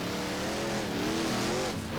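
Dirt track race car engine in the rFactor racing game, a loud, steady high-revving drone with gear-shift pitch sweeps running continuously for two seconds, no voices.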